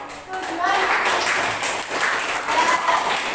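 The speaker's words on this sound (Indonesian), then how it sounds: "tepuk tangan dong" A classroom of students claps together in a steady patter lasting a few seconds, with a teacher's voice mixed in.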